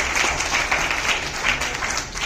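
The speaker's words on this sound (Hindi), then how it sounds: "जरा जोर से ताली बजा दीजिए" An audience at the inaugural session of an assembly breaks into sustained, energetic applause, a dense wash of many hands clapping at steady loudness.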